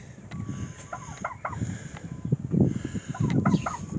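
Hurt chickens clucking in a coop infirmary pen, a steady run of soft, close clucks and short calls that swell louder near the end.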